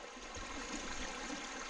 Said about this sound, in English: if you just want to sit, listen to the water